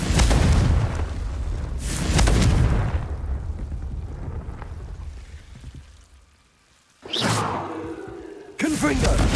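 Confringo fire spell in Hogwarts Legacy bursting in loud booming blasts, several spaced across the stretch with a quiet gap before a sharp final burst, the caster speaking between them.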